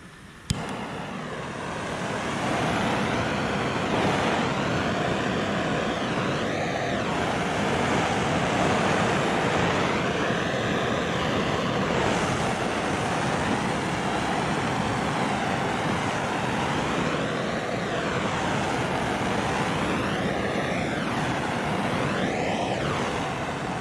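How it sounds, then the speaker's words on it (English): Handheld torch flame passed over epoxy resin to pop bubbles: a steady, loud hissing roar that starts with a click and runs continuously for over twenty seconds, close up. "let's use our torch real quick. Get some bubbles out of there"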